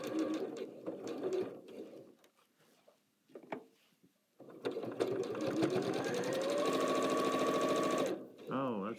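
Sewing machine stitching quilt fabric: a steady mechanical whir in two close bursts, a short run, then a pause, then a longer sustained run, with a quiet voice in the gap.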